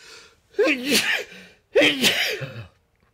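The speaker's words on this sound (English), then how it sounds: "Sneeze." Two loud, close sneezes, each a sudden voiced burst of breathy noise, come about a second apart with quiet between them.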